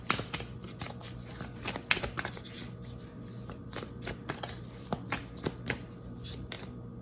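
Tarot cards shuffled by hand up close, a run of quick riffling flicks and soft card slaps in uneven bursts, quiet and without talk.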